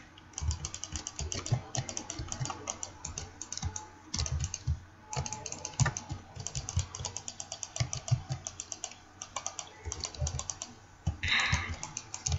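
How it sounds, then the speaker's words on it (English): Rapid, uneven clicking of a computer mouse, close and moderately loud, in quick bursts broken by short pauses, with light clattering mixed in. "Sorry if my mouse is clicking too loud"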